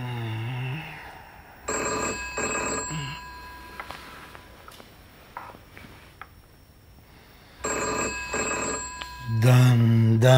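A telephone rings in two separate bursts of bright, trilling electronic tones, close and clear, with quieter scattered sounds in the pause between them.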